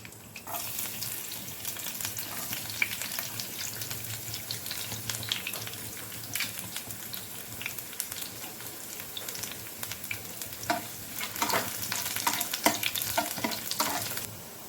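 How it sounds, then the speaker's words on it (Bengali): Four or five finely chopped garlic cloves fry in hot oil for a spicy fish snack, giving a steady, close sizzle with occasional stirring scrapes that continues through the whole stretch without any talking. "এবার আমি তেলে রসুন ফোড়ন দেব।"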